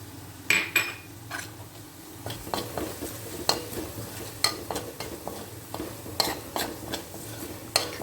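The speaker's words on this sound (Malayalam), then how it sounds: "ഒരു ചട്ടി വെച്ച് വെളിച്ചെണ്ണ ഒഴിച്ച് ചൂടായപ്പോൾ കുറച്ച് ചോ ചോന്നുള്ളി അരിഞ്ഞത് ഇട്ട് കൊടുത്തിട്ടുണ്ട് കറിവേപ്പിൻ്റെ ഇല ഇട്ട് കൊടുത്തിട്ടുണ്ട്" Chopped shallots and curry leaves fry in hot coconut oil in a pan, a steady close sizzle broken by frequent clinks and scrapes of a metal spoon stirring against the pan.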